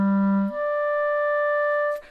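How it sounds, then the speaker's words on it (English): Clarinet sounding low A, then overblown with the register key up a twelfth, a single smooth slur from a loud low note into a sustained clear upper tone, heard alone. "just add the register key to see if you can overblow up to the 12th and get that out"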